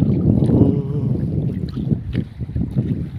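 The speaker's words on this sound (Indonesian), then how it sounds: "Oh, angin guys." Strong wind at sea blowing over shallow, choppy water, a continuous low buffeting roar that rises and falls, close and fairly loud, with no voices.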